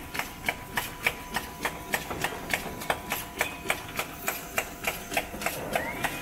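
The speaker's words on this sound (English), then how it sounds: "Then machine began to running." A rotary cap compression molding machine running in a factory, giving a steady, fast train of sharp mechanical clacks about three per second over a constant whirring hum, close and moderately loud with no talk.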